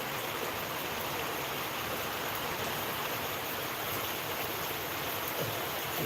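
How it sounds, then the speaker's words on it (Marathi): Heavy morning rain in Lohgaon pours down as a dense, even rushing wash of water, steady and moderately loud for the whole stretch, with no voices. "आम्ही आज जबरदस्त पाऊस चालू आहे जबरदस्त"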